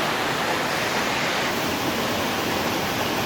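Cold, clear water rushes down a mountain valley stream and waterfall at a summer camping spot, making a loud, constant roar with no voices.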